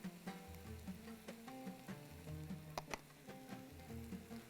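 Turmeric and other spices drop into a hot pan for Bahraini dishes, giving a steady close sizzle and frying crackle with light scraping and stirring clatter throughout.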